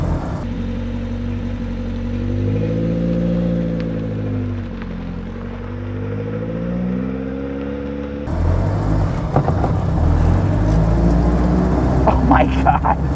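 A classic Mini with a Honda VTEC engine swap is driven, its steady engine drone rising and falling through the gears before a louder, rougher rattling stretch near the end, with people talking inside the car.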